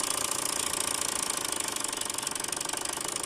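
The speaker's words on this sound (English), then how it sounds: "This beautiful little steam engine I built from a kit made by the Gage Company in Albuquerque." A small kit-built compound steam engine from the Gage Company drives a praxinoscope, giving a fast, even mechanical chuffing and clattering rhythm, steady and fairly faint, with no voices.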